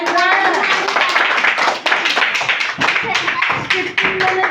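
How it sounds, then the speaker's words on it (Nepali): Hands clap repeatedly in quick, sharp bursts during an English action-words activity, the claps packed densely and loud, mixed with voices and other busy background sound. "क्लैपिंग माने कोन रे क्लैपिंग ताली मारबा"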